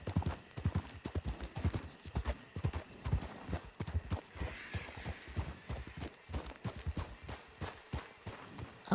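A horse's hooves clip-clop on the ground in an RPG video game, a steady walking rhythm of close, crisp hoof strikes throughout with no talk.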